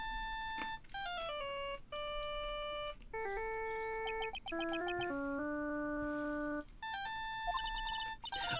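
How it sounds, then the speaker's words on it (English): A phone ringtone from the video game Phoenix Wright: Ace Attorney plays a bright electronic melody, its short rising and falling phrases repeating with brief gaps, loud and clear with no voices. "All of a sudden, the phone began to ring."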